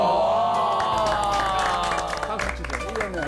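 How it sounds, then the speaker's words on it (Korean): Clapping breaks out among a family group with a grandfather and a small child during a Korean variety show, with lively voices, cheers and excited talk mixed over the claps throughout. "박수 치자."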